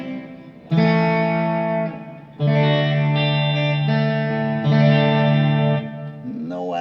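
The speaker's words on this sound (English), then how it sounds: "That's with my standard reverb and delay, and I've just added a chorus in front of it." Sustained electric guitar chords from a Fender Vintage Series Clapton Stratocaster ring out in three long strums, shimmering with chorus and trailing into reverb and delay echoes.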